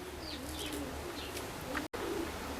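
An Oriental Roller pigeon coos softly in repeated low, murmuring phrases, faint and close, with a few light chirps from other birds in a quiet loft.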